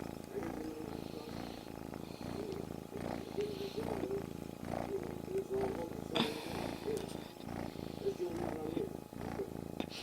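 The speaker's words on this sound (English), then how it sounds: "You hear him purring?" A cat purring steadily up close, a low rhythmic rumble pulsing with each breath, continuing throughout.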